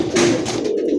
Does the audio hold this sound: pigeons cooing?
yes